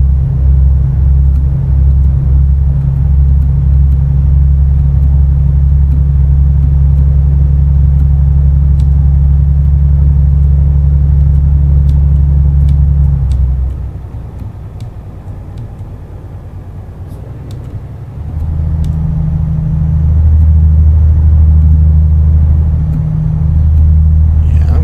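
A heavy truck engine in Euro Truck Simulator 2 drones with low road rumble, loud and steady, then dips as the throttle eases for a few seconds before swelling back to a sustained hum.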